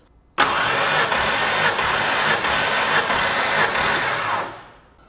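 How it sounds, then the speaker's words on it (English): A car's engine cranks on the starter during a compression test, a steady churning drone with faint rhythmic pulses from each compression stroke, loud and close, running about four seconds before winding down. "So there's 5 cranks."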